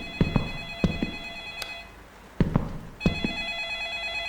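A telephone rings in the horror video game Light Switch, with sharp bell bursts repeating in short pairs and a clear pause between rings, fairly close and alone.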